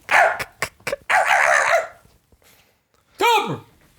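A dog in a house barks and yips in a quick cluster of short sharp barks, then gives one longer whining bark after a pause, loud and close.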